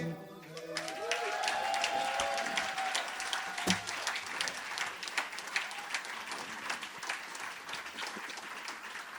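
A studio audience on an Italian music game show claps loudly in a dense, sustained round of applause, starting right away and thinning slightly toward the end, with some crowd noise mixed in.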